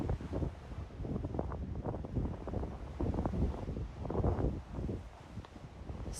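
Strong gusty wind in St. Thomas, aboard a cruise ship sailing into port, buffeting the microphone in loud, rumbling bursts that rise and fall throughout.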